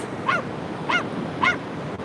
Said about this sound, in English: let's see if we can run away from the doggy barky. It's annoying.